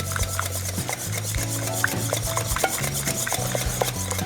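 Brownie batter gets stirred by hand in a bowl, a close, steady rubbing and scraping in rhythmic strokes with soft clicks, with no voices over it.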